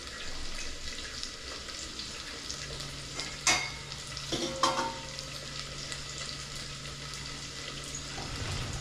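Masala spices sizzle and fry in a pan, a steady hiss with a few sharp scraping stirs of a utensil near the middle, close and moderately quiet, no talking.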